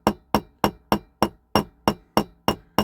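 A hammer peens over the thick axle end of a 1959–61 Dinky Toys Thornycroft Mighty Antar diecast model, ten sharp, evenly spaced metallic taps ringing out close and alone.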